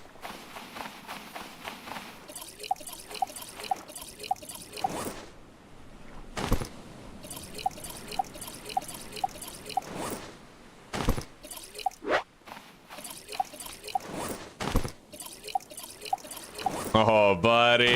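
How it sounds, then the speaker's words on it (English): Clay water containers being filled in the survival game Stranded Deep, with repeated splashing pours and drips in short bursts, interrupted by thuds and movement, moderately close and steady throughout. "We're gonna fill them up, starting with these clay ones."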